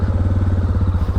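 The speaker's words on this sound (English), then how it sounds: "Oh, listen, you fire right up. Good old DR 650." A Suzuki DR 650 motorcycle engine running just after starting, a loud close thumping single-cylinder throb with fast even pulses and no talk over it.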